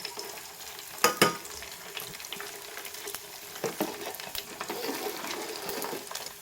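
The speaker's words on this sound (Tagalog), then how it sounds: "At ang mantika ay ready na. Ilagay na natin ang pork." Pork pieces frying in hot oil for chicharon: a close, bubbling, crackling sizzle with sharp spits and utensil clicks scattered throughout, loudest near the start, with no talking.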